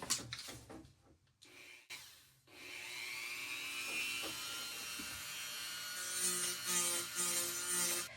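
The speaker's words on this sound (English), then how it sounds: "I've got my Dremel with a sandpaper drum, and I'm going to tear away at the center here." A Dremel rotary tool with a sandpaper drum grinds into old denim jeans, a steady high abrasive whir with scraping texture that runs continuously after a few short bursts at the start.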